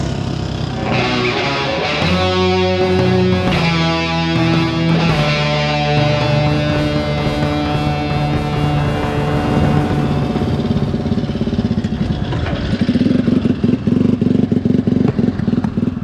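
Honda C100 50 single-cylinder engine running with bad ignition timing, a loud continuous uneven mechanical clatter and buzz with irregular revving and rough firing throughout, no voices.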